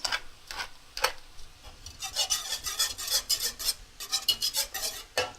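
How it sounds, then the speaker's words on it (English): Metal whisk scraping and stirring Gruyere and cheddar cheese into a sauce in a pan over low heat, a close, rapid rhythmic rasping that starts with a few strokes and then speeds into steady brisk whisking. "And now I'm going to whisk in the cheese."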